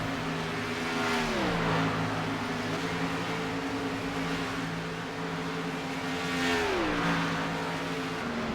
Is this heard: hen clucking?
no